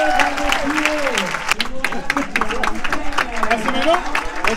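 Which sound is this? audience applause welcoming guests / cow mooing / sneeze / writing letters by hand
audience applause welcoming guests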